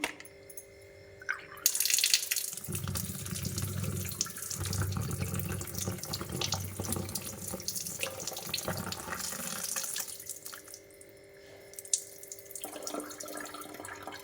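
Water runs from a tap to fill a container, a steady splashing rush that swells as the flow strengthens and continues without pause for most of the stretch before easing near the end.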